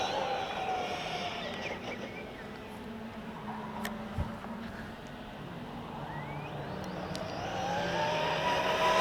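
An MJX 10208 RC car on a 2S to 4S speed run, a steady whining motor drone that swells as it nears and passes, fairly loud outdoors against wind and background noise.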